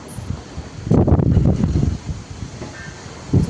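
Strong gusty storm wind rushing and buffeting the microphone, swelling into a loud roar, easing off, then gusting again at the end.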